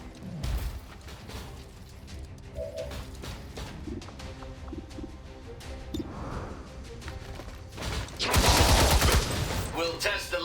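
Gunfire in XCOM 2 with the Long War of the Chosen mod: scattered game combat effects, then a loud, dense burst of shooting near the end, under a person talking.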